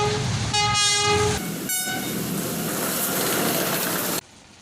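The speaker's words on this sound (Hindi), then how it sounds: "ये रेलगाड़ी आ चुकी है।" A Pakistan Railway passenger train arrives with loud, close horn blasts, one long and one shorter, over the heavy roar and rumble of the passing cars, which cuts off abruptly near the end.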